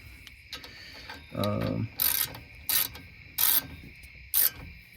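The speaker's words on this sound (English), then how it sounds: "And then I will tighten it up with the ratchet." A ratchet tightens a brake caliper bolt on a 2015 Ford Fiesta, a few short close clicking bursts spaced about half a second apart, with a brief voice early on.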